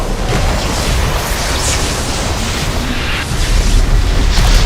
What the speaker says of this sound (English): Explosion in 4. Explosion.